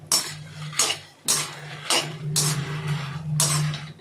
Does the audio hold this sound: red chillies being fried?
yes